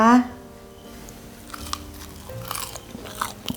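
Crispy Thai banana lotus pastry (khanom fak bua) crunches when bitten, followed by soft chewing and light crackles, close and fairly quiet after a brief voice at the start.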